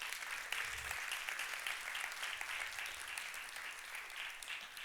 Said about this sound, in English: Give them a round of applause to our performers.